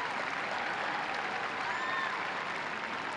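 Stadium crowd at an FC Twente women's football match applauding a substituted player, a steady, dense wash of clapping filling the whole stretch at moderate distance with no voices on top.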